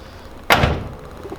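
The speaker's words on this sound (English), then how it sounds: "door closes." A single solid door of a 1973 Ford Capri MK1 thuds shut nearby, loud and abrupt, followed by a brief fading rumble and quiet.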